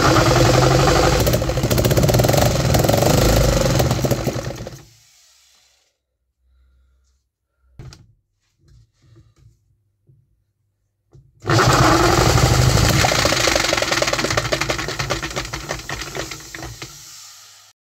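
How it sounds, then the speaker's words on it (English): A 3D-printed 125cc four-stroke engine runs loud and rough, cuts out into near silence broken by a few faint knocks, then roars back into a steady run that slowly fades. "Well, something went terribly wrong with this run, because we have no more compression and a bunch of click-clacks inside the engine."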